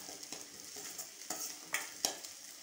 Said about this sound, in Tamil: ப்ரௌனிஷ் ஒரு மாதிரி கோல்ட் கலர் ஆகிற வரைக்கும் நல்லா வதக்கிக்கோங்க